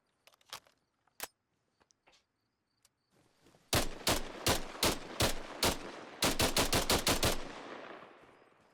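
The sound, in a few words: FN SCAR rifle full-auto hip fire in Arma Reforger video game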